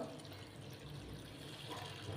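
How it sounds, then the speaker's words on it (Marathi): Water poured over poha flattened rice to soak it in a home kitchen, a continuous soft splashing and trickling, faint and close, with no talk. "चला तर आपण पहिल्यांदा पोहे भिजवणार आहोत"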